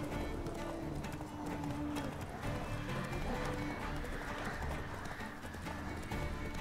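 Horse hooves clop along at a brisk, even pace, close and clear, against a constant layer of background ambience, in the video game The Witcher 3: Wild Hunt.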